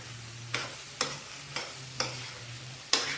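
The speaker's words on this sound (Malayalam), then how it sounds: "എല്ലാം കൂടെ ഒന്നിച്ചൊന്ന് ഇളക്കി കൊടുക്കാം." Papaya and egg stir-fry being stirred in a pan, a spatula scraping and tossing in five sharp, evenly spaced strokes over a steady low hum, close and fairly quiet.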